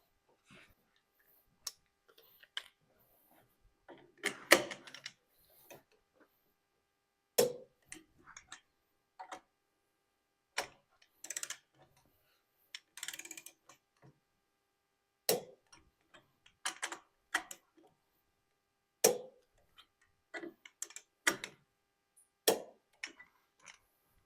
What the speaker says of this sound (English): So we're going to go ahead and torque these down to 75 foot-pounds.